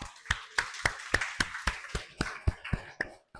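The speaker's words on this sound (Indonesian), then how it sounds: "Mungkin bisa tepuk tangan buat Metatech." A few hands clapping at a conference in a steady rhythm, about a dozen sharp claps spaced evenly, moderately close, with no talking.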